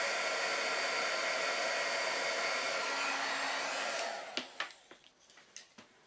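Heat gun blowing steadily while melting embossing powder on a handmade card, a loud constant whooshing roar that cuts off after about four seconds, followed by a few light taps and handling clicks.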